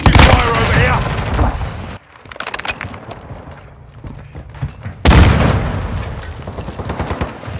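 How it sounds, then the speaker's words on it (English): Gunfire and a Semtex grenade blast in Call of Duty: Modern Warfare 2 on the Black Gold night-vision map, loud dense bursts at the start and again after a quieter middle stretch, with in-game voice callouts mixed in. "Semtex out! Taking fire over here!"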